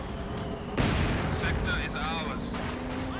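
Flak panzer anti-aircraft gunfire in the Company of Heroes 2 strategy game, a sudden loud burst of shots followed by continuing battle noise and faint whistling sounds.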